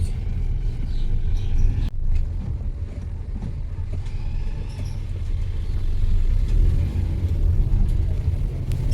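A car drives along with a constant low engine rumble and road noise from inside, one brief knock near the start and no talk.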